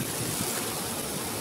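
Simulated rainfall sprayed over a French drain's gravel bed by a foundation, a dense, continuous rushing hiss of falling water, close and steady throughout.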